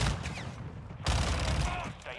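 Rapid gunfire in the Modern Warfare 2 beta: two dense, loud bursts of automatic shots close together, the second starting after a brief dip.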